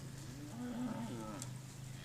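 A red heifer moos on a grazing farm, one drawn-out low bovine call rising and falling over about a second, moderately close above a steady low hum of background noise.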